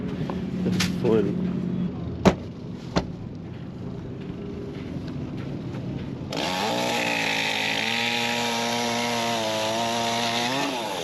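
A chainsaw starts and then runs at a steady, loud idle at an RV campsite in the California desert, after a stretch of quiet background with a few sharp knocks.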